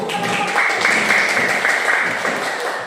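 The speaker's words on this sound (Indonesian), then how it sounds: "Tepuk tangan dulu." A classroom of students in a religious education lesson breaks into steady, loud applause that fills the short stretch, with a faint whistle-like tone over the clapping and no clear talk.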